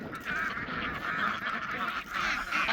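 Ducks on a farm call near a pond with loud, nasal, repeated quacking in several overlapping bursts, close and continuous throughout the short stretch.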